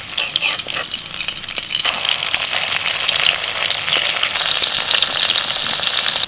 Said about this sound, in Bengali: এবার এই হাতার মধ্যে অল্প অল্প করে নিয়ে তেলের মধ্যে ছেড়ে দিচ্ছি এইভাবে একটা একটা করে ভেজে নেব বড়ার মতো করে